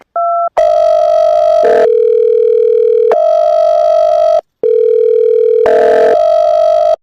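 Loud telephone dial tone, a steady electronic hum that cuts out briefly a few times before resuming, with no voices present.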